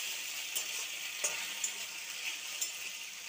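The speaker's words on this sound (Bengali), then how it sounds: "এখানে এই ম্যাক্রোনিগুলোকে তেলে দিয়ে দিলাম। তোমরা দেখতেই পাচ্ছ কিছুক্ষণ নাড়বো আমি কড়াইয়ে ম্যাক্রোনিগুলোকে।" Macaroni frying in oil in a wok, a steady close hiss with a few light clinks as it is stirred.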